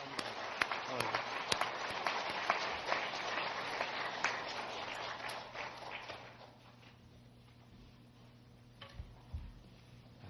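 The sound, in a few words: congregation applauding at a church revival meeting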